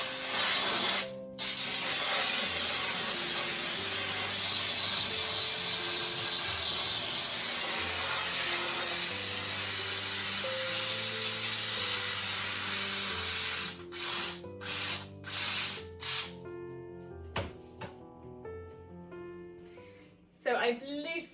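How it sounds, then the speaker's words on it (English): A steam cleaner blasts a loud, steady hiss of steam into a dishwasher for a long stretch, then cuts into several short bursts before stopping. "I've loosened all of the dirt with the steam cleaner"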